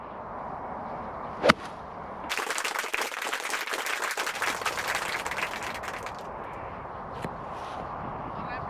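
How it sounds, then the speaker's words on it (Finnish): At an Espoo golf driving range, a golf club strikes a ball with a sharp, metallic clank, followed later by a second fainter impact, against a noisy outdoor background with a stretch of broad rushing sound. "tuntuu, että kuuluu sellainen metallinen kolahus?"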